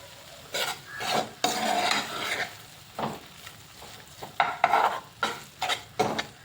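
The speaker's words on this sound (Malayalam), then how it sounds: "ഇനി ഇത് നമുക്കെല്ലാം കൂടെ നല്ലോണം ഒന്ന് മിക്സ് ചെയ്ത് കൊടുക്കാം" Kothu dosa made from dosa and egg being stirred in a pan, giving repeated scraping and clinking strokes of utensil on metal in an irregular rhythm, close and fairly loud, with no talking.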